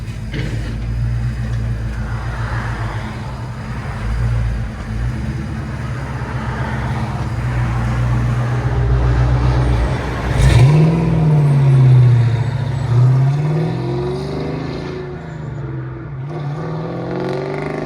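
Rumbling V8 of a 1993 Ford Mustang GT 5.0 with aftermarket exhaust, idling and cruising steadily before a sharp rev and acceleration near the middle, loud and close.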